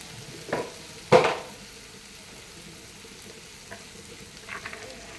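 Ginger and green chili frying in oil for pickle, with garlic to follow: a faint low sizzle broken by a few short bursts of crackle and stirring, the loudest near the start, with no talking.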